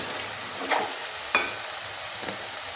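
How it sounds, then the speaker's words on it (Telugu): Tomato pieces are added to chicken pulao masala frying in a pan, with a faint steady sizzle broken by two or three brief clatters of a spoon. "ఇప్పుడు టమాటా ముక్కలు వేసేద్దాం"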